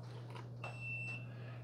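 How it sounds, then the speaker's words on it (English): A Krups Essential Brew 12-cup programmable drip coffee maker gives a sustained electronic beep when brewing finishes, heard over a low steady hum in a quiet kitchen. "Now it does beep at you when it's done, but you can turn those beeps off."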